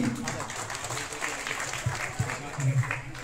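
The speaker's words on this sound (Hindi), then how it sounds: "एक बार फिर से आप तालियां बजाइए सभी" A crowd at a village celebration in Nimoth, honouring a local young man's success, claps steadily throughout, with voices murmuring and calling under the applause.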